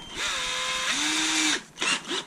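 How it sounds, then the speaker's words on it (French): A power drill with a 4 mm bit bores a hole, a close whine that rises in pitch as it speeds up, holds steady, then cuts off into a few short bursts. "Donc moi comme c'est du 3 mm, je vais percer avec du 4."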